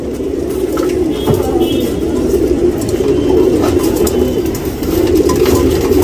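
Tournament racing pigeons in a Bangalore loft coo repeatedly, soft throaty calls layered over a constant low background hum, close and steady throughout with no talking.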